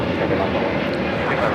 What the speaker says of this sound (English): This is Spirit Airlines 110 taking off to Salt Lake City, Utah on the A321neo.